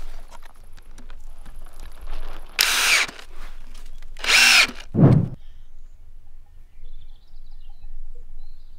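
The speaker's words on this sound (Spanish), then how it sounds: "Voy a empezar a meter estos tirafondos con el taladro eléctrico" A cordless electric drill driving lag screws into beams while restoring an old cabin: three short, loud whirring bursts, the last lower-pitched as the screw bites, separated by quiet pauses.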